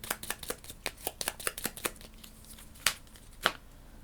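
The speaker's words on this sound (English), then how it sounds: "so we'll shuffle this up" A deck of Endless Winter board game cards being shuffled, crisp riffling bursts in quick succession followed by two separate louder snaps, close and alone without any voices.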